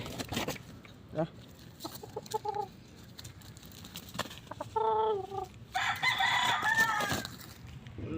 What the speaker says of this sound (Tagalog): Likot ng manok na to.